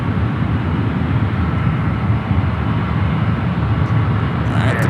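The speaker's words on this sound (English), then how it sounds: "the Queen flying above us. The flight coming in from Frankfurt. 747-400." A Boeing 747-400 arriving from Frankfurt passes overhead near San Francisco airport, a loud, continuous low engine roar and rumble that holds steady throughout without speech.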